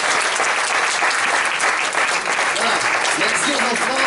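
Steady, full applause from an audience at a children's Christmas party, continuous close clapping from many hands with a hint of voices mixed in.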